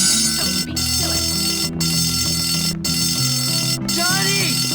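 A spontaneous fire alarm ringing steadily and loudly, its tone continuous across the whole stretch with brief dropouts, over a dense background of other sound.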